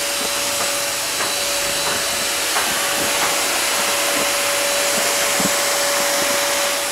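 A household vacuum cleaner running at full speed, a loud, steady whine and airflow hiss that stays constant throughout with a few faint clicks.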